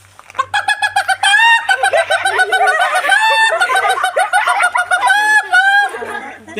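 A human voice imitates a hen clucking as she lays an egg, giving a loud, close run of rapid, rising cackles and squawks in bursts, alone with no other talk.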